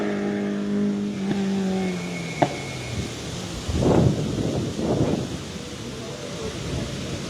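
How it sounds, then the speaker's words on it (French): Race cars climbing the hill at the 46th Pourville-sur-Mer hill climb, engines swelling past in a few rising and fading bursts amid outdoor wind noise, with an engine tone at the start, heard from the roadside. "vous assistez à la course de côte de Pourville."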